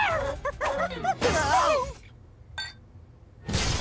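A dog yips and barks in a short excited burst, close and loud, then a pause and a final noisy clatter.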